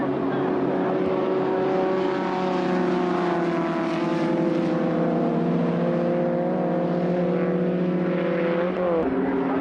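Beetle Cup race cars at a BRSCC circuit meeting stream past on track in a loud, continuous engine drone, several engines overlapping with shifting pitch, a commentator's voice running over them.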